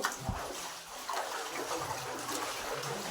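Water splashes and trickles steadily in a reverberant cave, with faint sloshing like someone wading slowly through it.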